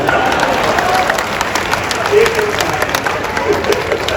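Crowd clapping at a live Hindi comedy poetry gathering, a dense, steady wash of applause from a large audience, continuous throughout with a voice faintly underneath.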